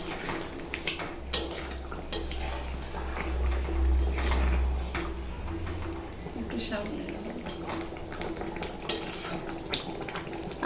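Chicken curry being stirred in a pot after ground garam masala is added, with soft scraping and clinks of a spoon over a low simmering bubble and background hum, a voice speaking throughout.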